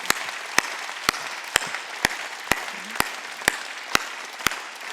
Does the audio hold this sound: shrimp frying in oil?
no